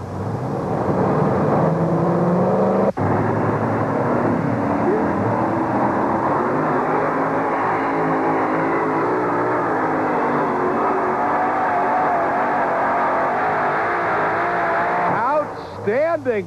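Power Play monster truck roars loud and steady as it drags a sled down the track at a 1991 USHRA event in Uniondale, with a sharp jolt near the start and the engine running hard throughout.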